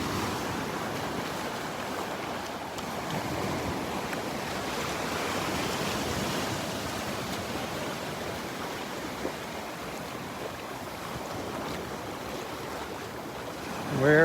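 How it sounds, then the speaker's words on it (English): Ocean waves break and wash along the beach at Delnor-Wiggins in a constant roar, mixed with wind buffeting the microphone. "There's too many waves."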